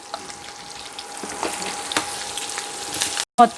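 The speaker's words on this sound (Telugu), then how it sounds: "పచ్చివాసన పోయేంత వరకు వేగించుకోవాలి" A turmeric spice mixture fries in a pan for lemon rice, giving a steady, close sizzle with a few soft stirring knocks and a brief cut-out near the end.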